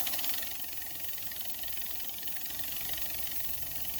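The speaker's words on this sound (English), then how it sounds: "Here I'm going to hit it with some dust off and get this thing spinning again." A can of compressed air duster blasts an Arduino wind-speed anemometer to set its cups spinning, giving a loud, steady, breathy hiss that holds unbroken from start to finish.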